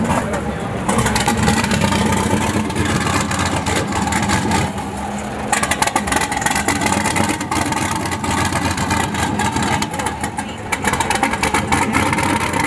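Turbocharged Camaro with a massive cam at a drag racing event, its engine loping at a rough, uneven idle with a constant loud rumble, with crowd noise and voices around it.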